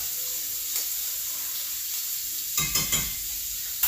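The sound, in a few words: shrimp frying in pan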